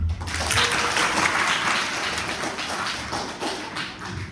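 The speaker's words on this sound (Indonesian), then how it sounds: "Tepuk tangan semuanya." A room full of high school students clapping together, a dense steady patter of hands that holds for a few seconds, moderately loud and close.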